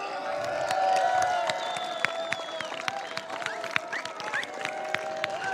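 A crowd at a kart racing event at Le Mans greets host nation France with sustained applause and cheering, sharp individual claps and whistles rising over the clapping, swelling early and then holding steady.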